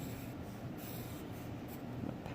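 A dull pencil scratches steadily across paper while trigonometry is worked out by hand, a faint continuous rasp heard close and alone.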